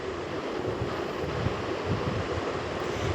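Onions sauté in a pan for an egg poriyal, giving a steady, even sizzle that holds at a moderate level throughout, close by, with no voices.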